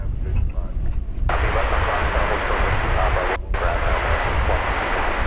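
A Nippon Cargo Boeing 747-8 freighter passes over Dallas Fort Worth airport, a loud sustained jet engine roar filling the whole stretch, with people talking over it.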